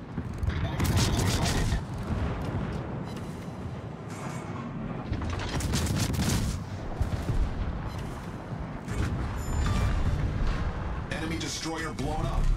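Naval gunfire and explosions from World of Warships crash in repeated heavy booms and rolling blasts, several loud bursts spaced across the span, with a cruiser Mainz in the Ops Narai battle.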